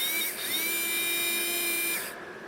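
Small toy car electric motor test-run on a 9-volt battery, a high, thin whine that rises in pitch as it spins up, holds steady for about two seconds, then cuts off, faint and alone.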